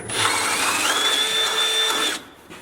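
A power drill whines steadily, close and loud, boring near an engine's oil line, then the motor cuts off and winds down near the end.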